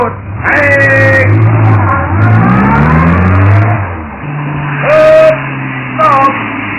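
An old comedy cassette carries a loud car engine sound effect, revving and accelerating with rising and falling whines, fading briefly before surging again, with faint talk under it.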